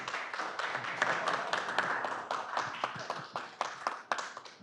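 Audience applause welcoming a senator at a public forum on transparency and access to information, a steady patter of clapping hands with sharper individual claps near the end, moderately close.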